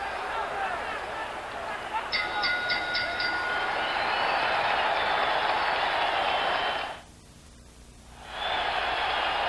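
A boxing crowd roars and applauds at the bell ending round 14 of the 1980 Duran vs Leonard WBC welterweight title fight in Montreal's Olympic Stadium, a dense sustained din that drops out briefly before swelling again, with a commentator talking.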